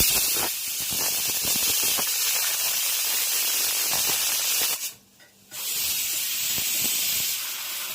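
A pressure cooker vents steam while panipuri is being made, with a loud, sustained hiss that cuts out briefly near the end before resuming at full strength.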